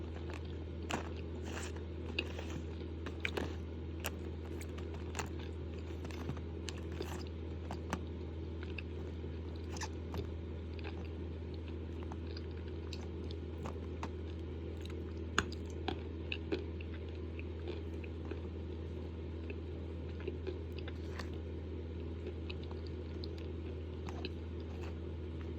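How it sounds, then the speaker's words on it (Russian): Someone chews crunchy, salty Uyghur edible clay close to the mic, with repeated sharp crunches and bites over a low steady hum. "Уйгурская жирная, солененькая, хрустит."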